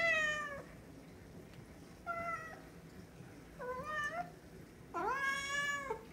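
A cat pleading to be let out into the yard, four drawn-out plaintive meows spaced a second or so apart, close and clear, the last one longest and loudest, with quiet room background between.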